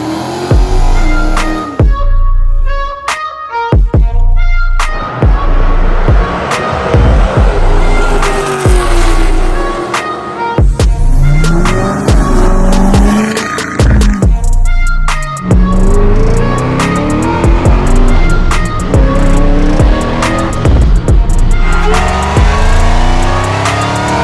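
A turbocharged Honda Civic engine revs hard and loud in repeated bursts, with rising and falling pulls, sharp pops and cut-offs between them, close and dominant throughout.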